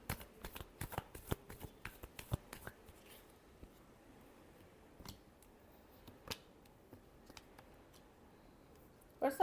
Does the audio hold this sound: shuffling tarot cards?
yes